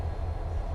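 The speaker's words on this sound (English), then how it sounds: "There's 6178 autonomous locomotive. They're in front of us." A CSX freight train locomotive rumbles in a rail yard, a steady low engine drone with heavy bass throughout, fairly loud and continuous with no voices.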